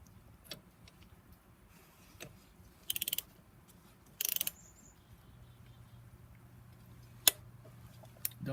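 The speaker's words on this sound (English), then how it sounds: "So I'm gonna torque these to 71 pound-inch." Torque wrench tightening bolts on the turbos of a BMW 135i N54 engine during a rebuild, with two short bursts of close ratcheting clicks followed by a sharp single click amid quiet workshop background.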